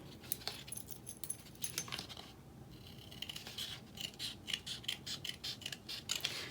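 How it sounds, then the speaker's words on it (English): Quiet, close snipping of scissors through paper, a run of short crisp cuts with small rustles between them. "I'm just gonna eyeball it with my scissors."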